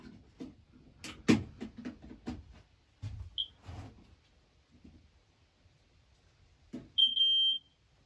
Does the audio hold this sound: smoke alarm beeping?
yes